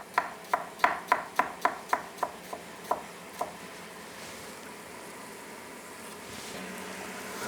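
Onions sliced thin with a knife on a cutting board, about ten crisp, close chops in a quick, slowing rhythm, then quiet room tone.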